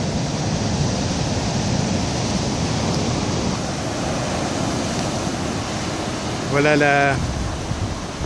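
Ocean surf washes steadily into the pebble-strewn mouth of the Rivière des Galets on Réunion, a continuous broad roar that holds for the whole stretch, with a brief voice speaking near the end.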